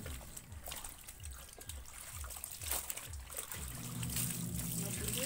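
Water trickles and splashes during a quick rinse, a steady close flow that grows fuller toward the end, with a faint low rhythmic thumping underneath.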